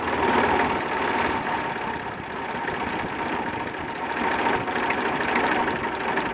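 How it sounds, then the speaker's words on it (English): A Fordson Super Dexta tractor engine idling at very low throttle, close by: a steady, uneven diesel chug and knock with slight wavering as it nears stalling, no voices. "so that's idle right there. That's low throttle. That's a little too low. It's about to shut off."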